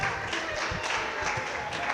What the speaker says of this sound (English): If you like what you see, clap your hands